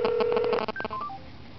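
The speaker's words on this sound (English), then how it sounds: "It's on speakerphone." Phone keypad dialing tones sound over a speakerphone, a quick run of beeps and a held tone, then a few higher electronic chirps, faint and alone without talk.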